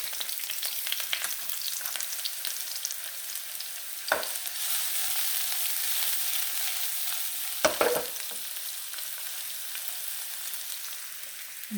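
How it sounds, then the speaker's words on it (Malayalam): Red shallots (small onions) frying in hot coconut oil, a steady close sizzle throughout with a couple of brief louder clatters from stirring, no talking. "അത് കാരണം ഞാൻ വെളിച്ചെണ്ണ ഒഴിച്ചിട്ടാണ് ഇത് കാച്ചാൻ പോകുന്നത് കേട്ടോ. ഒരു പിടി ചുവന്ന ഉള്ളി ഇട്ട് കൊടുക്കാം."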